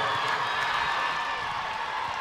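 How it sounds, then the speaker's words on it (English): A crowd cheers at a high school state semifinal volleyball match in a gym, a steady loud wash of voices and whoops from a packed stand, with a faint announcer underneath. "A great crowd response."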